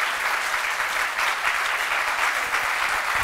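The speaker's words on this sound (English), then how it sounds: "Thank you very much for your warm applause." Warm, steady applause from an audience at a dinner with Greek-American community representatives, dense and even throughout, with no talk over it.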